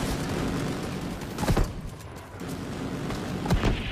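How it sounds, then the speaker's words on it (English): Distant bursts of machine gun fire in the shooter game Tom Clancy's The Division 2, heard as a steady crackling rattle with two sharper, louder shots standing out. "But I keep hearing this machine gun"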